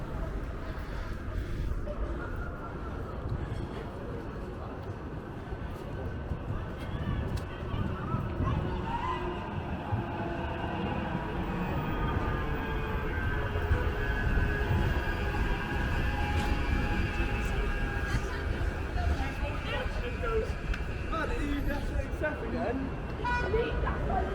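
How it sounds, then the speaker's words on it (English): Rolling rumble of a tram passing on city tracks in Manchester, UK, with metallic squeals and a faint horn over steady street noise. "Coming to the trams now."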